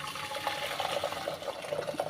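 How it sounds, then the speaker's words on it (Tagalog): Hot water poured into a pot for molokhia chicken soup, a steady liquid rush and splash lasting throughout, close and moderately loud. "Lagyan naman natin ng mainit na tubig"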